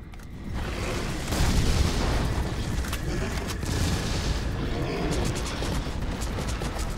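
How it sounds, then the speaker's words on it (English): Booming explosions and bursts of gunfire from the horror shooter game The Suffering: Tremors, a dense, continuous barrage with heavy low rumble and crackling impacts throughout, no voices over it. "What are all these explosions?"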